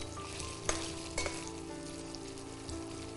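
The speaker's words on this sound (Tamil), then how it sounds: "நம்ம போட்டதில் இப்போ நல்லா வறுபட்டுருச்சு." Paneer cubes frying in oil in a pan over a low flame, giving a quiet, steady sizzle with a few soft clinks and crackles, no voices.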